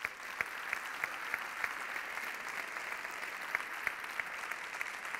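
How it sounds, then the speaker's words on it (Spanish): Steady audience applause at a sports awards gala, a dense continuous wash of clapping with a few sharper individual claps standing out, moderately distant and sustained throughout with no talk. "Un fuerte abrazo y un gran aplauso de tu pueblo."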